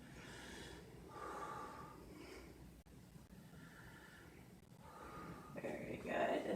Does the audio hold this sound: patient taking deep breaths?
yes